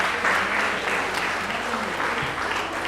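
Audience applause opening a dance championship in Meerut, a dense, steady wash of clapping that holds loud and even for the full three seconds with little variation.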